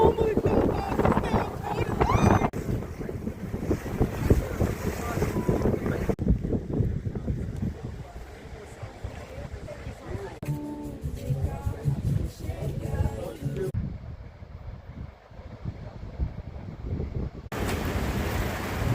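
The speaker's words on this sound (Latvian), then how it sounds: "devāmies 10 kilometrus okeānā" A small boat heads about ten kilometres out into the Atlantic off Portugal, with strong wind buffeting the microphone, splashing waves and the hull's steady rush; voices talk at times beneath the roar.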